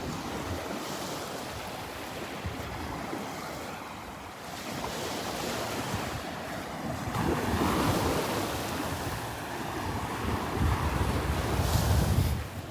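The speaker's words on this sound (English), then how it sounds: "Some little waves rolling in here." Small waves wash onto a Gulf of Mexico beach at Delnor-Wiggins with a continuous hiss and gentle swells, mixed with gusty wind buffeting the microphone; no one speaks.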